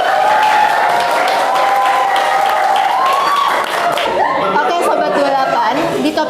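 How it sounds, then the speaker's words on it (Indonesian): A small audience claps for guest Ardika in an Indonesian student talk segment, lively applause mixed with chatter and light laughter, with a voice speaking over it at close range. "Kasih tepuk tangan dulu dong"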